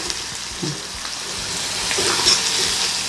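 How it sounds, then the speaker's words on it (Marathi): Onion sautéing in an oiled pan with curry leaves and a little salt, a soft steady sizzle that swells slightly toward the end, with a few faint stirring scrapes. "टाकणार आपण कांदा आता हा छान परतून घेऊ आपण"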